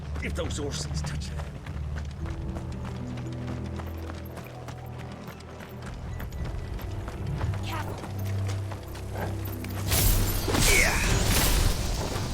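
Galloping horse hooves in Final Fantasy XVI clatter in a fast rhythm under a voice and game music, building into a loud rushing burst toward the end.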